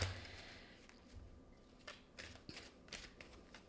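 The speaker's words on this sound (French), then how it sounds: "Je vais juste prendre une carte." Oracle cards drawn and handled from a deck, giving a few soft papery slides and light flicks, quiet and close, spread over a few seconds without talk.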